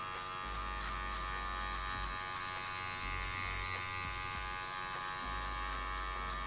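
Electric hair clipper fitted with a 1.5 guard buzzing continuously while fading hair, a close, steady motor hum with slight shifts in pitch and load as the blades move through the hair; no talking.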